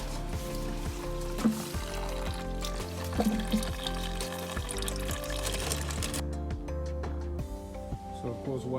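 Coolant drains from the radiator of a 2009 Toyota Camry as a continuous pouring trickle of liquid, heard beneath steady background music.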